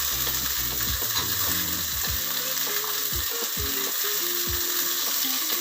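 Sliced big onions sautéing in a pan for brinji rice, a loud continuous sizzle with repeated scraping and clinking of a spoon stirring against the pan.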